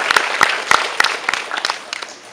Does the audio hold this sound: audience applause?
yes